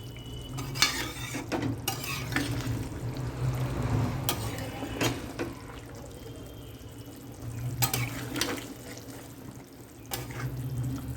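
Potato and pointed gourd curry gravy bubbling in a pot, a low simmering burble with occasional sharp clinks and stirring knocks, moderately close and steady for several seconds.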